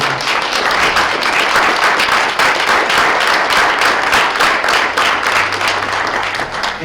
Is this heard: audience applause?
yes